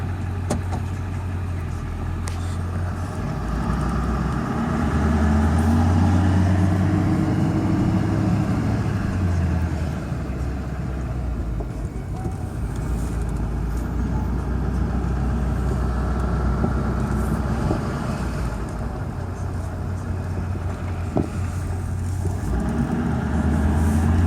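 Steady rumble of a Duramax diesel pickup truck engine while driving, a low continuous drone with slight rises in revving, no voices.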